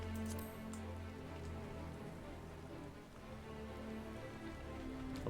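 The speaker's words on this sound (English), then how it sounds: "Rain!" Steady rain falls in Final Fantasy XIV, a soft continuous patter of drops on surfaces, faint and even, layered over a low humming background tone.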